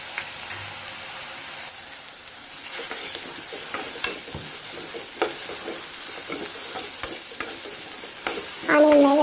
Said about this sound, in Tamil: ஆனியன் ஃப்ரை ஆகிறதுக்குள்ளே ஆனியன் இப்போ ஃப்ரை ஆகிடுச்சு